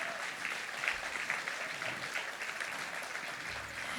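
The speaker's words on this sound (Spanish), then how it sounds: "Den un aplauso al Señor." Congregation in church applauding steadily, a dense, even wash of clapping that holds throughout at moderate loudness.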